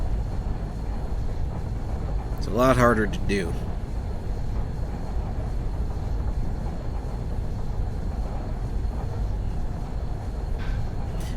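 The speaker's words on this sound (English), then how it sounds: "is slowing down a steam train" A steam train slowing down in Train Simulator 2020 on the Bessemer Conneaut shuttle: a steady, dense low rumble runs through the whole stretch, with someone briefly talking over it.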